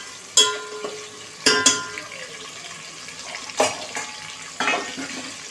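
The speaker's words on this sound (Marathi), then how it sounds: "बारीक चिरलेला टोमॅटो याच्यात ॲड करायचा आहे. आणि टोमॅटो पण छान असा मऊ शिजवून घ्यायचा आहे." Finely chopped tomatoes cook in a pan for soy chunk pulao, giving a soft background sizzle broken by several sharp clanks of a spoon against the metal pan, with no talking.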